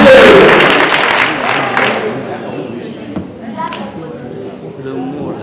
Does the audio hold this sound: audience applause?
yes